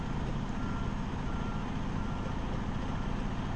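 A truck backing into a tight area sounds a steady reversing alarm over a continuous low engine rumble, the beeping regular and moderately near, with no talking.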